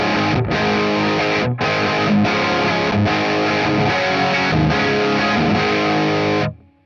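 Electric guitar played through a CGT PEA-V 5150 EDDY amp profile on the ToneX rhythm channel with the bright switch engaged, heavily distorted chords chugging loud and close, with brief gaps between strums before ringing out and stopping.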